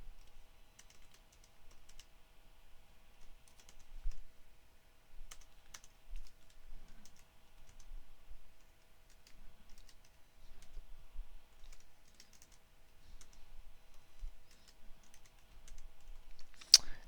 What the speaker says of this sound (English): here I'm going to type in my question.